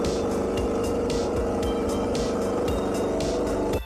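A Ducati World Superbike racing motorcycle engine screams at high revs, a loud, close, sustained whine with a rapid rhythmic pulsing that cuts off at the end.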